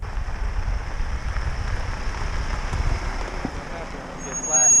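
A support vehicle rolls toward riders on a road during a bike race, its engine and tyre noise forming a steady low rumble that grows louder near the end.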